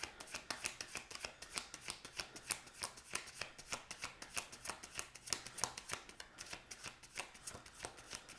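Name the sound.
shuffling tarot cards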